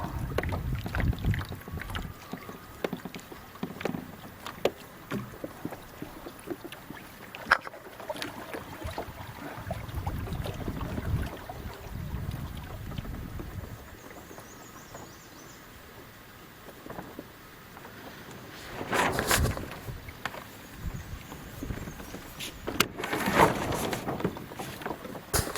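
A sailboat moves across open water at a camp, with wind rushing over the microphone, water sloshing against the hull and occasional louder gusts and splashes; no voices.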